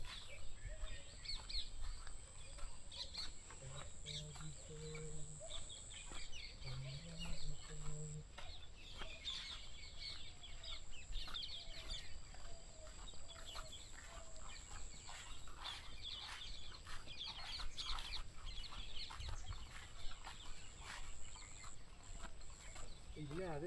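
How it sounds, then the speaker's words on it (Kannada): Faint bird calls in a Bangalore forest on an early morning bicycle ride, scattered short chirps and whistles almost buried under steady wind and road noise, with people talking nearby. "ಪಕ್ಷಿ ಸೌಂಡ್ ಕೇಳಿಸುತ್ತೆ, ಸಖತ್ತಾಗಿರುತ್ತೆ"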